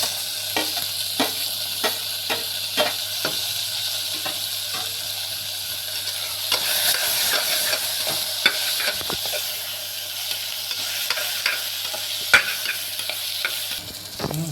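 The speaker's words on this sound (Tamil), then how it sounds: "வெங்காயம் நல்லா வதங்கிட்டு நம்ம எடுத்து வச்ச தக்காளியும் போட்டு வதக்கலாம்" Onions and tomatoes sauté in a pan for mushroom biryani, with a continuous close sizzle under a series of regular spatula scrapes and taps that keep up a steady stirring rhythm.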